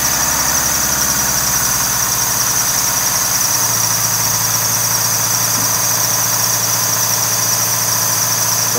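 A Chrysler PT Cruiser with fresh spark plugs idles steadily and loudly, a constant engine drone with a high whine running throughout and a slight shift in the low hum partway.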